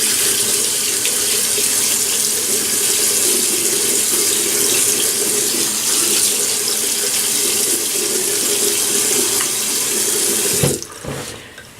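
Tap water runs steadily into a sink to wet the face for wet shaving, a loud, close, continuous hiss and splash that cuts off abruptly near the end.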